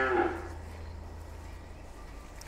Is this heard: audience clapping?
no